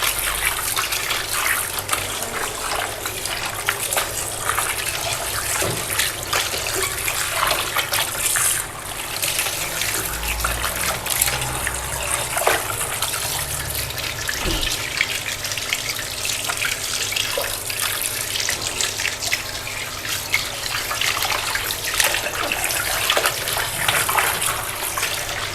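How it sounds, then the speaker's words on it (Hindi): Tap water runs steadily into a sink as cubed chicken breast is washed, a continuous close splashing gush with small trickling variations throughout, no voices. "अब हम इसको अच्छी तरीके से धोते हैं, इसको अच्छी तरीके से जो है वो वॉश करते हैं।"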